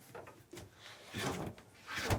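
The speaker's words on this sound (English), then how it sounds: "Boom, you close the doors." Shower doors swing shut aboard a Mylius M47 yacht, with a few soft knocks and clicks followed by a louder sliding thud near the end, heard close and without talk.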